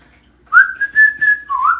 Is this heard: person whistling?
yes